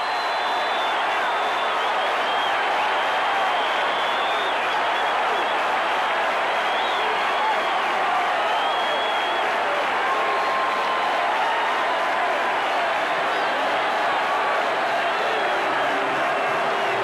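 A packed baseball stadium crowd at the 1985 World Series Game 1, Cardinals at Kansas City Royals, rises as one in a steady, loud roar of cheering and applause that holds without letting up throughout.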